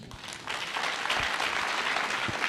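Audience at a political party chapter handover ceremony breaking into sustained hand clapping, dense and steady, swelling slightly after the first half second and holding for the rest.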